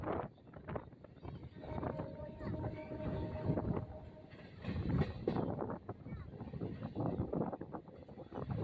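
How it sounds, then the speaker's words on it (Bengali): A train rumbles and rattles steadily with a long horn-like tone early on, noisy mechanical clatter throughout as it rolls into Bardhaman station. "আমাদের ট্রেন এখন বর্ধমান স্টেশনে ঢুকছে"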